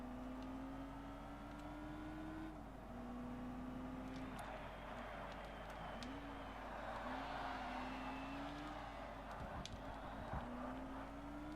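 A race car in the Forza Motorsport game, an ultra-light class car, drones steadily through a chicane, its engine tone rising and dipping with shifts, continuous and fairly quiet under faint background noise.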